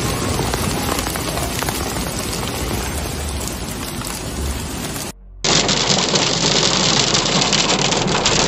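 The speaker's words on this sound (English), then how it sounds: "Strong hailstorm and floods hit the Azcapotzalco area in Mexico City." A strong hailstorm in the Azcapotzalco area of Mexico City pours down as loud, dense, continuous hiss and clatter, then cuts abruptly to a second, equally steady roar of falling ice and water.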